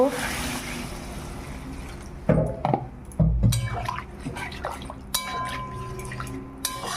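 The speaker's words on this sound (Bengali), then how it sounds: "এবার জল দিয়ে দেব।" Water is poured into a cooking pan of spiced fish curry base, giving splashing and dripping bursts close by mixed with clinks and kitchen handling noise, interrupted by pauses.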